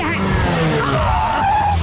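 A bus brakes hard and skids to a stop, a loud screeching tire squeal over engine rumble lasting the whole moment, with voices talking over it.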